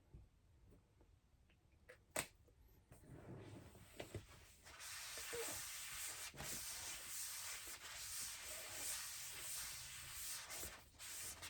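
A bowling ball is sanded with a 500 grit pad, a rough rubbing hiss that starts with a few knocks and short scrapes, then settles into a steady, continuous abrasive swish, close and moderately loud.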